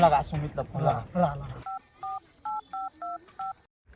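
After someone speaks, a telephone keypad sounds seven short, evenly spaced dial tones in quick succession, clear and close, followed by brief quiet.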